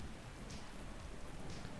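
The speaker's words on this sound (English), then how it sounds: "it's rainy. It's gloomy." Steady, dense rainfall in ARK: Survival Ascended, a constant hiss of raindrops on surfaces heard alone at a low, even level for the whole short stretch.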